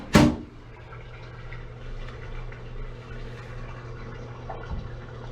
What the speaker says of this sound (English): you can hear that. That's the water draining.